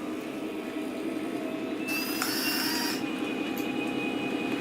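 Small model train wheels click and clatter along a track in a steady run, with a brief high metallic squeal partway through.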